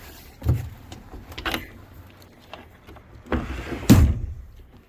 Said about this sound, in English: a sliding door over here with the bathroom